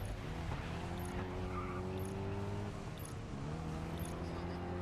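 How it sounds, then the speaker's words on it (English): Car engine in the racing video game GRID Legends, with a diesel Volkswagen character, drones steadily throughout at moderate level with faint tyre noise, while a voice talks over it. "This one sounds like a diesel Volkswagen."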